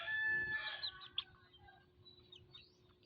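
Chickens cluck and call softly nearby, with a louder burst early on and scattered bird sounds afterward, over a low background rumble.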